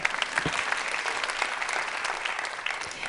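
Audience applause fills a talk venue: dense, steady clapping from a large crowd, loud and continuous throughout with no speech on top.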